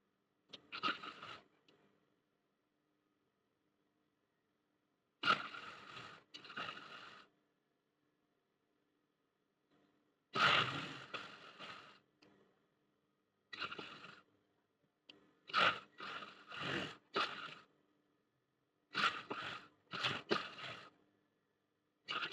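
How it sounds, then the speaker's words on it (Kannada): Blouse fabric is trimmed with tailoring scissors in short separate bursts of snipping and scraping, clear and close, separated by silent pauses. "ನೋಡಿ ಈ ರೀತಿ ನಾವು ಎಕ್ಸ್ಟ್ರಾ ಬಂದಿರೋದನ್ನ ಕಟ್ ಮಾಡ್ತಾ ಇದ್ದೀನಿ."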